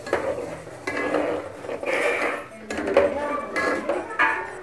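A spoon stirs semolina into boiling water in a metal pot, scraping and clinking against the sides in uneven bursts, close and fairly loud.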